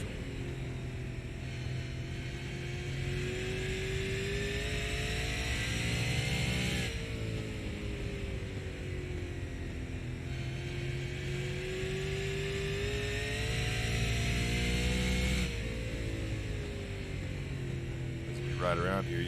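A super late model race car runs on track at Five Flags Speedway, its engine droning and rising and falling with throttle changes in long waves, a steady loud roar with faint background murmur.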